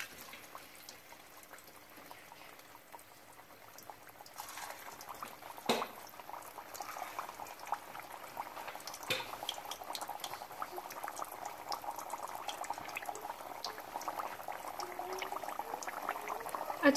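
Potato smileys deep-fry in hot oil with a continuous bubbling sizzle that grows fuller and louder after the first few seconds, broken by a couple of soft clunks.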